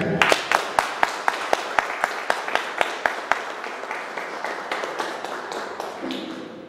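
An audience at a public meeting in Chosica about huaycos applauds, sharp claps in a steady unison rhythm that soon blur into looser, softer clapping.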